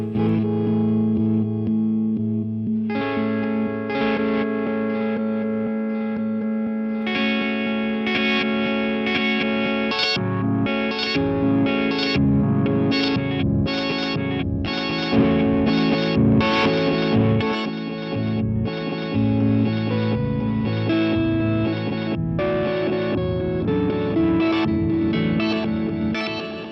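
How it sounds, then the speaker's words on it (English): An electric guitar plays through a glitch delay pedal, with stuttering, chopped repeats and distorted tones continuing throughout. "one more delay that I really love, the glitch delay."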